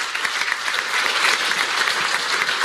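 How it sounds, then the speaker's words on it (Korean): Audience at a Korean presidential candidate's press conference breaks into sustained applause, a dense wash of many hands clapping steadily at moderate loudness from start to finish. "모두 참석하신 모든 분에서 큰 박수 부탁드리겠습니다"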